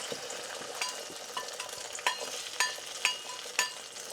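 Eggs fry in a hot pan in a home kitchen on a rainy night. A steady crackling sizzle runs throughout, with sharper spitting pops every half second or so and no voices.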